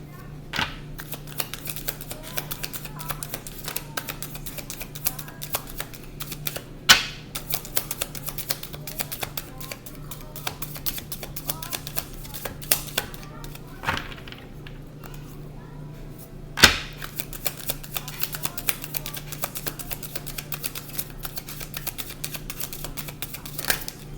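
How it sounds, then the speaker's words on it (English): Tarot cards being shuffled continuously, with crisp repeated riffling and soft slaps close by, a few louder snaps along the way. "Otherwise, I will keep shuffling."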